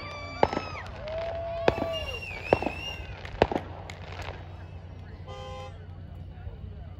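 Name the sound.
fireworks exploding on the Fourth of July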